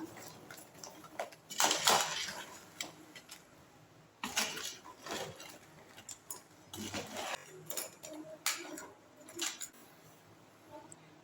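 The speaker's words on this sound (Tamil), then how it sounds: "இதெல்லாம் நல்லா ஒரு முறை கலந்து விட்டுக்கலாம்" Crab gravy with tamarind pulp being stirred in a pan, giving intermittent scraping and clinking bursts of spoon against metal, moderately loud with pauses between strokes.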